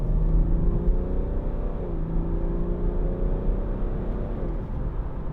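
BMW 430d Gran Coupe (2014 4 Series, 3.0 diesel) accelerating hard up a dual carriageway, heard from inside: a steady engine drone rising in pitch, dipping at a gear change, then climbing again under road rumble, with no talking.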